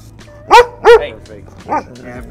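A pet dog barks indoors, two loud close barks in quick succession followed by a softer third bark after a short pause.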